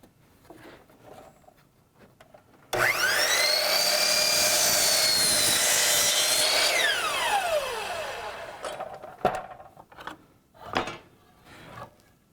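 A miter saw spins up with a sharp rising whine, cuts a 15-degree angle through wood in one loud sustained pass of several seconds, then winds down with a falling tone, followed by handling clatter.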